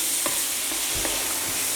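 Chicken filling is stirred as it fries in a pan over medium heat, giving soft scraping strokes over a steady, quiet sizzle.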